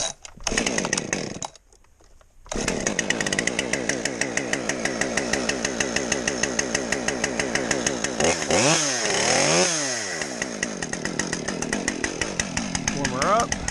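A small 50cc chainsaw revs and idles while warming up, loud and close, its engine note rising and falling through several throttle blips after a brief stall near the start.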